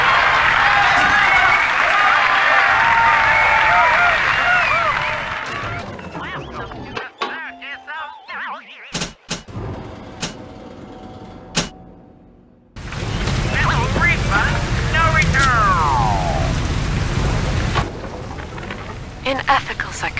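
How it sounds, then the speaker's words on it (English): Rain in Rapture from BioShock 2 Remastered falls as a dense, loud hiss for several seconds, drops away into quiet broken by sparse sounds, then returns as a heavy steady downpour with a voice heard over it. "It is raining in Rapture"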